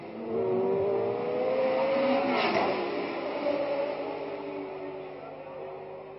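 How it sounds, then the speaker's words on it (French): A 1967 Cooper Maserati Formula 1 race car at the Monaco Grand Prix passes by, its engine note rising and falling in pitch as it goes by. The sound is steady and moderately loud, with no talking. "Quant aux Cooper Maserati, comme celle de Rodriguez que voici"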